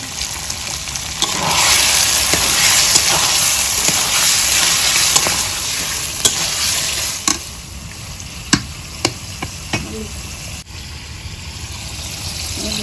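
Chicken meat with chili and salt frying in a pan for a village-style chicken curry with taro, a loud steady sizzle with stirring scrapes and occasional sharp clinks of a spoon against the pan, close by with no talk.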